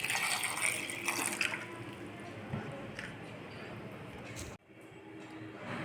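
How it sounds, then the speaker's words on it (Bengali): Water poured into a homemade energy drink mix seasoned with black pepper, a continuous splashing and gurgling pour for several seconds, fairly close, ending abruptly into quieter room noise. "সাথে একটু জল ঢেলে দিই, কিছু পরিমাণ ওয়াটার দিয়ে দিলাম।"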